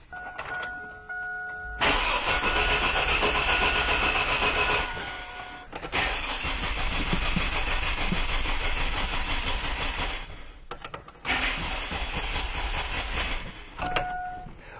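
Car engine with a no-spark fault cranks in three long bursts of steady rapid churning, each several seconds, with short pauses between, never catching or running.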